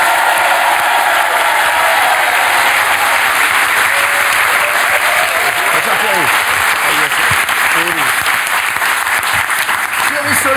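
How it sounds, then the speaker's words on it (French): Loud, sustained applause from a French TV studio audience welcoming a guest, dense continuous clapping with crowd noise and some voices mixed in throughout. "Applaudissements pour lui."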